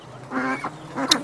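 Geese honking on a small farm among hens and other fowl: two nasal, harmonic calls close by, a longer one followed by a shorter one, with no talk over them.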